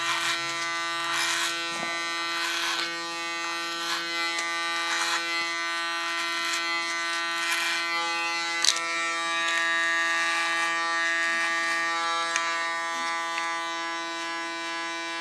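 Electric clippers buzz steadily and close while shaving the nape of the neck for a short bob, a continuous hum with faint shifts as the blade moves through hair.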